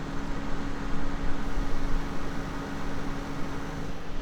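Continuous mechanical whir and rushing air from an LG convertible window air conditioner with a faint low hum, slightly fluctuating in level, heard up close without any talking.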